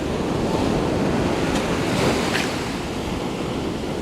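Ocean surf washes onto a beach in a continuous broad roar, with wind buffeting the microphone and no voices.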